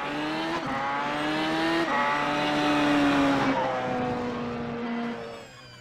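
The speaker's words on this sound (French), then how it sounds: "vous pouvez de nouveau constater à l'oreille, c'est que le bruit du moteur est différent" An Audi R18 or Porsche 919 LMP1 hybrid race car engine in the iRacing game revs up through its gears, pitch climbing and dropping with each shift, loud and continuous with faint tire squeal.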